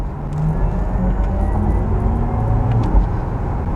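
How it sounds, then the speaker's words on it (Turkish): A smooth, steady synthetic whir and low rumble from a Porsche Taycan 4S electric sports car's synthetic engine sound, continuous and fairly loud, without the rise and fall of a combustion engine. "Menüden elektrikli spor araba sesini açıyorum. Arabanın sesi anında değişiyor."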